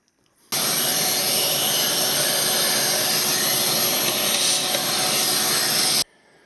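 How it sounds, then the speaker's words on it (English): A vacuum cleaner roars steadily as it cleans the air filter housing of a Toyota Camry, switching on abruptly and running as a loud, close whine for about five seconds before cutting off, with no talking. "So I'm going to vacuum it"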